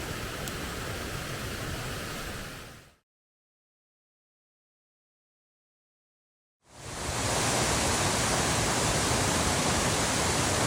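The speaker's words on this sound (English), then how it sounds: "That's a small waterfall." Small waterfall in Arosa, heard as a dense, steady hiss of rushing water, loud and close. It cuts to silence for a few seconds, then the same roar returns, slightly louder.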